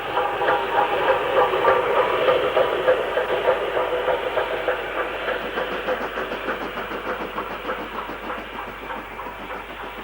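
A steam banking locomotive drops away from a train at Grayrigg on the Shap line, a continuous heavy rumble with rhythmic chuffing and clattering wheels that eases slightly toward the end, loud and steady throughout.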